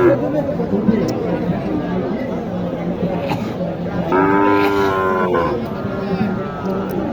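A Shahiwal bull lows in long, drawn-out moos at a busy cattle market in Matajihat, Naogaon, rising above a steady hubbub of crowd chatter and nearby talk.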